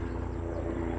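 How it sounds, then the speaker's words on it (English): A helicopter flies overhead, a continuous low throbbing rotor drone with steady pulsing that fills the whole short stretch, with no talking. "helicopter above us, so bear with the sound."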